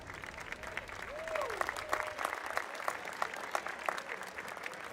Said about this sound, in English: That was a full Counter-Strike golf clap.